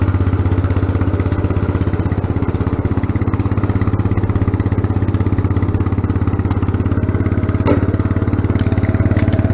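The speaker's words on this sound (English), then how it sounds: "I got this thing really idled down" A small tractor engine idles close by, turned down low, with a steady, even mechanical chug that holds unchanged throughout with no talk.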